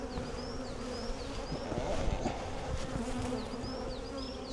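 Bees swarm around a breeder queen's hive with a dense, steady buzzing close by, while single insects zip past the listener again and again.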